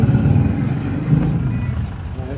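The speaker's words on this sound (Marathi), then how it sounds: "गेली ग गाडी गेली" Guests' car pulling away from a house, a low, steady engine rumble holding close for a couple of seconds with voices mixed in.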